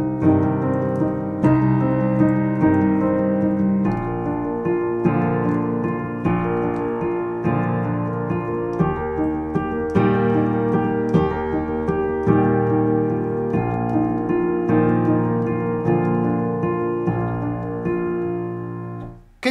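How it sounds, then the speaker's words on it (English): Hollywood-style cinematic piano pattern played with both hands, low repeated bass notes under a flowing, ringing upper line, sustained and close, with no talking. "Now, if I put the right hand in with that,"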